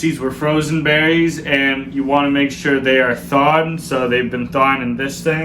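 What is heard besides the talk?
No everyday noises stand out.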